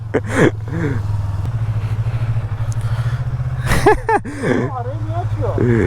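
A Yamaha MT-07 motorcycle engine rumbles steadily at low speed with a pulsing idle-like throb, running under nearby talk and laughter.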